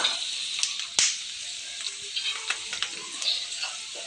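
Poha tempering crackles and sizzles in a hot pan, with a few sharp scrapes and clicks of a spoon stirring through it; a steady, close frying hiss with occasional louder pops.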